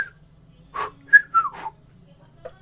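A man imitates someone whistling, producing a few short, wavering, off-tune whistled notes up close, with little else around them.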